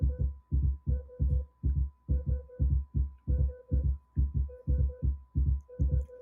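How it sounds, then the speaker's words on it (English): Heartbeat sound shaped into a music beat, a steady double-thump pulse repeating about twice a second, loud and close with a low hum underneath, no voices. "Oh, that's turning into a beat by itself. The heartbeat is."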